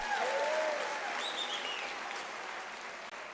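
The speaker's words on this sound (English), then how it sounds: "Let's give them a round of applause." An audience at a university graduation ceremony gives a sustained round of applause that begins full and gradually thins out as it fades, with no speech over it.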